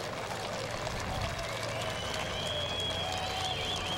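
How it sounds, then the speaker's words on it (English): A golf gallery at the PGA Championship applauds in a steady, sustained ripple of clapping and crowd noise, with a commentator talking over it and a faint whistling tone toward the end. "And now he gets the reaction from the crowd."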